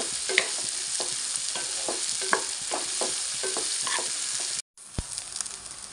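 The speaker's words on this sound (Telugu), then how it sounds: "ఇలా దూరగా ఫ్రై చేసుకోవాలి." Cluster beans curry frying in a pan while a spatula stirs it, steady sizzling broken by repeated scraping clacks, a brief cutout near the end, then sizzling and a sharp knock, no voices.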